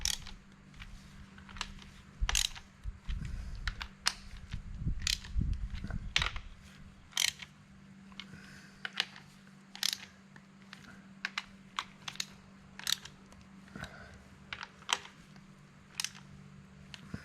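Wrench clicks and metallic taps while bolts are tightened on a Minneapolis Moline A4T tractor's clutch pressure plate: a string of sharp, close ticks at irregular intervals, with a low steady hum and a brief rumble of handling early on.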